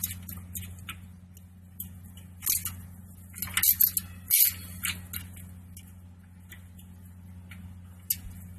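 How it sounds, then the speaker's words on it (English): A 1/4 inch drive ratchet with a 10mm socket loosening bolts on an ABS bracket of a Nissan D22/D21 pickup, giving quiet bursts of fine ratchet clicks and a few metallic taps over a low hum. "Using a 10mm socket with a 1/4 inch drive, I'm going to remove the ABS bracket"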